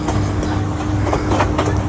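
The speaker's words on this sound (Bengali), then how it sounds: "তো অলরেডি কিন্তু মোটামুটি ট্রেন ছেড়ে দিচ্ছে" A Bangladeshi passenger train on the Bogura to Bonarpara line rolls along the rails as it pulls away, heard from the open doorway as a loud, continuous rumble with rhythmic wheel clatter.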